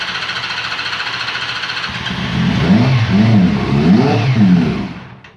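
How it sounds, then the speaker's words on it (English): A Honda CB 400 NC23E motorcycle engine turns over and catches after a starting-fluid squirt, then revs in several rising and falling bursts, loud and close before dying away. "crank her over and start it off"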